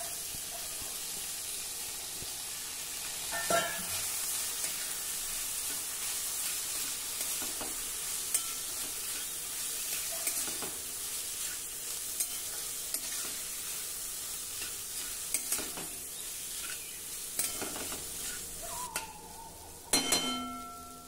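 Soaked wheat kurdai are stirred through a hot pan. A steady sizzle and hiss runs throughout, broken by scraping spoon strokes and a few light clinks, all close up with no talking.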